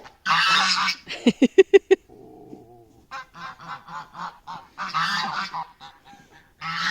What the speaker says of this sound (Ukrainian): Гусі.